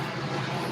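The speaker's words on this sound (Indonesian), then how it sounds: "Pesawat" An airplane passes near an airport, heard as a steady broad engine roar with a low rumble, fairly loud and continuous with no voices.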